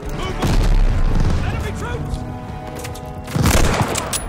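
A grenade explodes in the video game Call of Duty: Vanguard as a deep, loud boom near the start, followed by scattered gunfire and a second heavy blast near the end.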